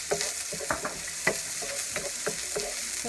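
Garlic sautéing in hot oil in a heated skillet, a gentle crackling sizzle broken by a regular rhythm of utensil stirring strokes, close and fairly quiet.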